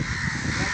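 Crows caw in a dense, continuous, loud chorus, many birds calling at once with a voice mixed in underneath.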